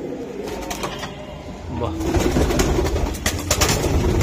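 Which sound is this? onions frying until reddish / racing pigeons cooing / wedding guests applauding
racing pigeons cooing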